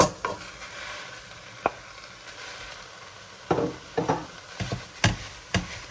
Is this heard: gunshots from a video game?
no